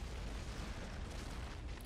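A cave-in in the video game Mass Effect 3 produces a deep, continuous explosive rumble, loud and steady throughout with no voices.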